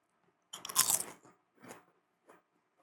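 Homemade barbecue potato chips bitten close to the mic: one sharp loud crunch, then two fainter chewing crunches at intervals, with silence between.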